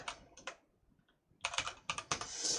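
Keystrokes on a computer keyboard come in short bursts of clicks, a quick pair, a pause, then a denser run of taps, close and fairly crisp with no voices.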